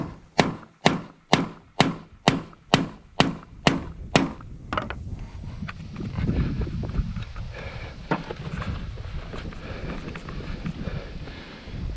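A quick series of about nine evenly spaced hammer taps on a metal nail set, close and crisp, followed by scraping, shuffling movement and wind noise.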